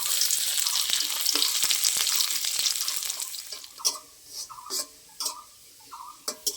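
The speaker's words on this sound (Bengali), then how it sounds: "এবার রসুন কুচি নিয়েছি আমি" Chopped garlic fries in hot oil for a shol fish curry, a close crackling sizzle that fades, then gives way to scattered stirring clatters and scrapes in the pan.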